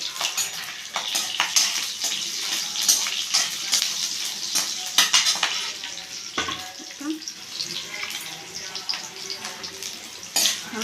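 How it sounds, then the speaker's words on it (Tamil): Onion, garlic and ginger sautéing in a pan for valakkai kola urundai, a continuous close sizzle with frequent stirring scrapes and clinks. "நல்லா வதங்கட்டும்."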